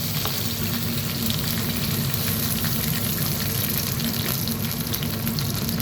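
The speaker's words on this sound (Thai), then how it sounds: "ผัดให้กระเทียมของเราเหลืองหอมนะ" Garlic stir-fried in a pan until golden gives a dense, steady sizzle that holds at the same loud level throughout, with no voices.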